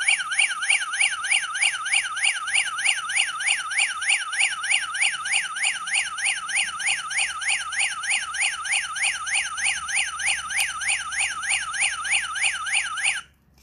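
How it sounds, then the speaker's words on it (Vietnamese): AT-216 visitor alert unit sounding its alarm siren: a loud, steady warbling electronic tone cycling rapidly and evenly for about thirteen seconds, close and alone, then cutting off abruptly. "bây giờ nó sẽ là tiếng báo động"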